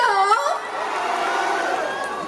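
Festival crowd at a K-pop performance at the Baudeogi Festival in Anseong, cheering and screaming in a steady, dense roar, with a voice calling out briefly at the start.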